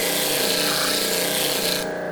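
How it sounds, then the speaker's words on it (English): A disc sander grinds steadily along a small wood edge, a continuous loud abrasive whir with a rubbing texture that cuts off sharply near the end. "So if I'm gonna sand this little edge here, I'm gonna start on the left"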